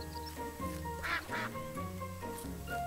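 Ducks quack repeatedly in the Capybara Spa video game, several short nasal calls over steady looping game music, fairly close and clear with no talking.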